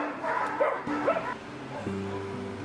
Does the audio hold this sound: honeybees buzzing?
no